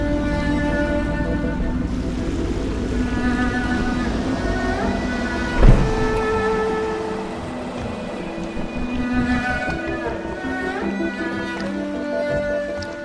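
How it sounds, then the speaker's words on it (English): Small boat piloted across water in Dishonored, a steady engine drone with lapping water throughout, one sharp thump near the middle and faint music-like tones layered underneath. "I should concentrate on piloting this boat."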